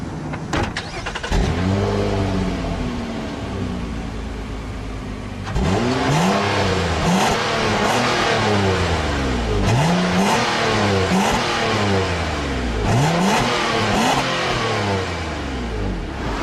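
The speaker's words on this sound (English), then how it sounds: "underneath the Altima's stylish hood, you're going to find the company's signature V6" A 2015 Nissan Altima 3.5 SL with its VQ35DE V6 starts, idles, then revs repeatedly, the pitch climbing and falling in four or five clear swells, loud and close.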